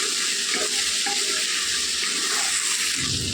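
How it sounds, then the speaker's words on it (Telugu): Okra curry cooks in a hot pan with a loud, dense, continuous sizzle, close up. Faint scrapes of stirring run underneath, and no one speaks. "ఇలా కలుపుకుంటా మగ్గించుకోవాలండి. అన్నీ సమానంగా మగ్గుతాయి బెండకాయలు."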